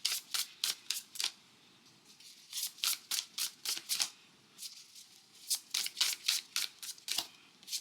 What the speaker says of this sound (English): So let's pull our first card, our second card,